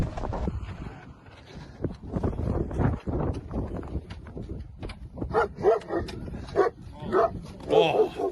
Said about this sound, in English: See them getting out this beautiful German Shepherd.